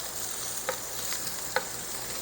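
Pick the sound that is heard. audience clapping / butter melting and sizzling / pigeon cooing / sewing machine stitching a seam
butter melting and sizzling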